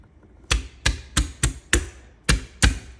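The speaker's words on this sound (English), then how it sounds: "I like to just chop off the bottom piece and then take the heel of my knife" Seven sharp, evenly spaced knocks of a knife on a cutting board while garlic cloves are cut and struck, each a loud close thud that dies away quickly, with no speech.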